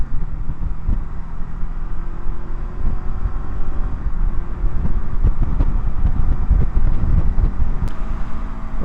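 A Honda NX500 adventure motorcycle cruising on a freeway at 80 mph in top gear, with a steady loud engine drone buried under heavy, constant wind rush buffeting the microphone.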